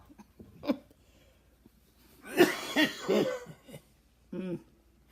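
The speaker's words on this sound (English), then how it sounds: "That coughing scares me." Several sharp coughs: a single one early, then a longer burst of harsh coughing in the middle, and a final short cough, close and fairly loud.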